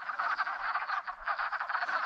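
Wood frogs in a spring pond croak steadily in a dense, overlapping chorus of rapid clucking calls, close and continuous, with no voices.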